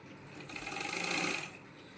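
A sewing machine runs for about a second in one smooth, close whirring burst while stitching fabric, rising and easing off amid quiet room tone.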